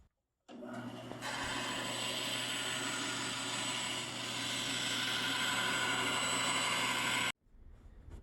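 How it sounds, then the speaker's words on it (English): A bandsaw trims a replacement pickguard for an Ibanez Roadstar short-scale bass, a loud, steady whine and whir running for about seven seconds before cutting off abruptly, with a brief rustle afterward. "All right, to the bandsaw right over here. So I'm just going to trim around it within maybe 1/8 of an inch"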